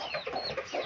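Chickens eating feed outdoors give a few close, soft clucks and short throaty calls in a quick run, with no voices.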